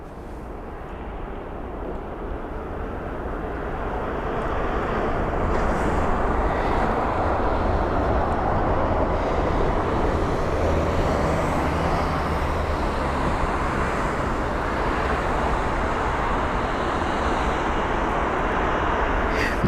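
An Emirates Airbus A380 arriving from Dubai rolls off the runway at London Heathrow, a broad, steady jet engine roar swelling over the first few seconds and then holding loud and continuous throughout.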